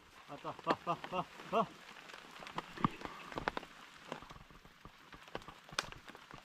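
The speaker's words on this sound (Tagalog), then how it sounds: "Malakas-lakas na rin yung ulan." Heavy rain pours on a village garden, a dense hiss with scattered sharp drops and knocks, while a person talks over it in the first seconds.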